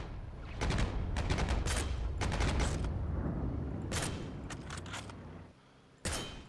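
Dense gunfire in the World War II shooter Heroes and Generals: rapid bursts of rifle and machine-gun shots crackle almost continuously, briefly drop away, then one more sharp shot rings out.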